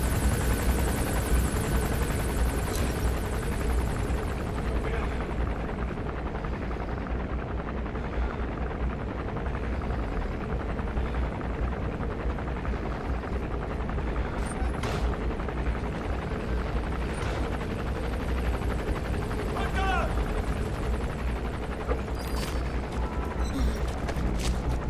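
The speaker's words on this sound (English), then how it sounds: "That's an enemy gunship." An enemy gunship helicopter in the video game Metal Gear Solid V: The Phantom Pain gives a steady, loud rotor and engine roar that fills the whole stretch, with faint mechanical clatter mixed in.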